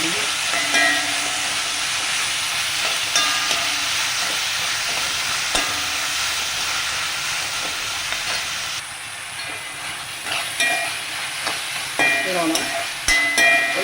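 Onion masala with pepper powder fries in a pan, a continuous close sizzle and hiss with scattered clinks and scrapes of stirring, the clatter picking up toward the end.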